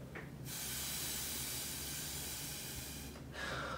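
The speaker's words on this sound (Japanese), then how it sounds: "で自分の息をですねこのストロー越しに思いっきり吐きます。" A hard breath forced out through a drinking straw in a ballet training exercise, heard as one strong, steady rushing hiss lasting about three seconds, close and loud, with brief softer breaths at either end.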